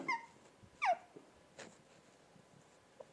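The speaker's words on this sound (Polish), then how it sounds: "To jest piesek, to jest hał, hał." A small dog gives a few short high whimpers and a yip, close and fairly faint, with brief pauses between them in a quiet room.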